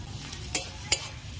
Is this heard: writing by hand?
no